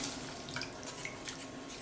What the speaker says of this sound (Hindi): अब इसमें डालेंगे थोड़ा पानी।